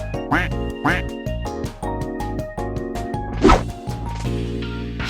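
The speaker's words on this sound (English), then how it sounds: "They quack when you walk." Squeaky quacking from novelty slippers sounds with each step, a steady run of short, loud duck-like honks over roughly five seconds, one sharper thump near the end.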